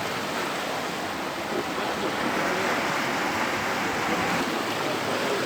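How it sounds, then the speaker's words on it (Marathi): Waves of the Arabian Sea wash against the shore at Sindhudurg Fort in Malvan, a steady, broad surf roar with wind noise that holds close and loud throughout, with no talk. "आणि हे आहे अरबी समुद्राचं निळं पाणी"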